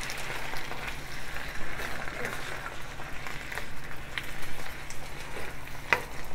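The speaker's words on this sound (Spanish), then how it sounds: "Vamos a sofreír esto." Chicken noodles with soy sauce and oil sizzle in a pan, a continuous close frying hiss with occasional stirring scrapes, while a person talks quietly over it.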